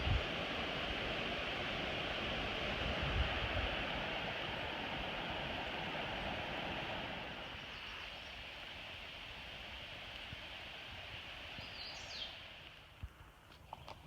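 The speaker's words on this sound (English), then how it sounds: "You can see the gorge down below and hear the river, and there's a waterfall." Steady broadband rush of a river and waterfall in a gorge on the Fiery Gizzard Trail, heard from a distance, continuous and fairly faint, easing slightly partway through, with no voices.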